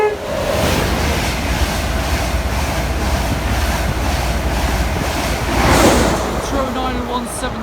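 A passenger train on the Leeds to London King's Cross line rushes past at close range, a loud sustained roar of wheels and air with wind buffeting the microphone, swelling briefly near the end.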